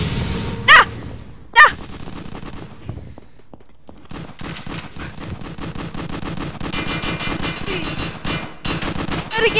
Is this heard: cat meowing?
no